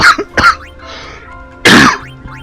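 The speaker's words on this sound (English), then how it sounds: "I'm sorry, I'm coughing." Two sharp coughs close to the mic, followed by a pause and then a louder, raspier cough.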